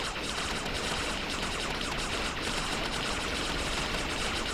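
Vehicle-mounted guns in the TerraTech video game firing nonstop, a dense, loud, rapid rattle of shots with no pauses, heard alone.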